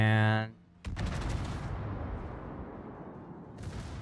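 Warship guns firing in World of Warships, a loud broadside boom trailing into a long rumbling roll with a second burst near the end, after a voice.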